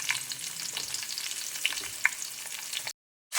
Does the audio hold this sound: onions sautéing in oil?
yes